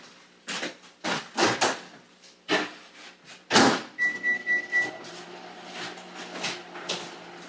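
A kitchen microwave heats a single ear of sweet corn: several loud clunks and knocks of the door and handling, a brief bright beep, then a faint steady hum of the oven running.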